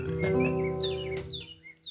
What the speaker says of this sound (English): I recorded chirping bird sounds